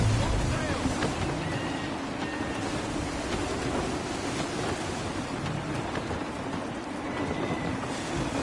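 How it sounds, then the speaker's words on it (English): Wind and sea while sailing a ship in Assassin's Creed III: steady rushing wind and broad surf wash roll on continuously at an even, fairly loud level, with no talk over them. "Gusty winds can be difficult to manage"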